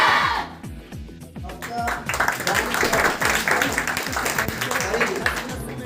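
Schoolchildren clap together after chanting at a National Science Day celebration at Branch 5 school in Kalupur, Balasinor, a sustained rhythmic burst of many small hands close by, with voices mixed in.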